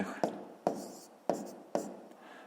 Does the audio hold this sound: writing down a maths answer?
yes